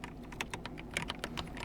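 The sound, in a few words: typing on Logitech G316 X keyboard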